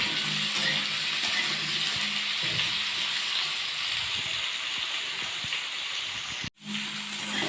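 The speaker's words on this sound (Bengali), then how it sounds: "আলুগুলো একটু লাল লাল করে ভেজে তারপর সবজিগুলো সব দিয়ে দেবো।" Potatoes fry in a pan with a steady, close sizzle and hiss that runs throughout, with light stirring clicks and a brief dropout near the end.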